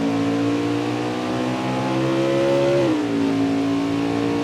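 An Xfinity race car engine droning loud and steady on the Mid-Ohio track, its pitch holding high and then dropping sharply as the driver shifts or brakes into the first corner.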